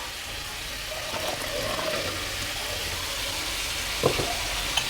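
Drumstick stems drop into a pot of boiling lentil dal, giving a faint steady bubbling and simmer with a brief splash and clink partway through.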